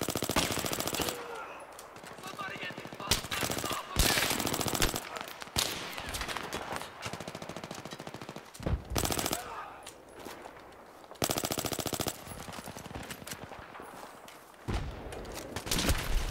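Battlefield 3 team deathmatch on rooftops brings loud bursts of automatic rifle and machine-gun fire, rapid fusillades repeating through the whole span, some close and some farther off, with a player's voice cutting in between.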